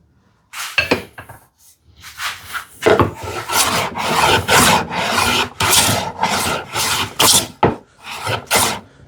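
A hand tool rasps across a wooden board, making rhythmic, close and loud scraping strokes in repeated bursts with short pauses between passes.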